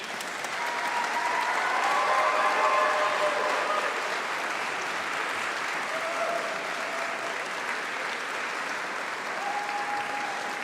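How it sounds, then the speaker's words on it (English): A graduation audience applauding at a summer university congregation, with dense, sustained clapping from a large crowd that swells slightly and then holds steady for about ten seconds. "Please, graduates, stand up and give them a huge round of applause."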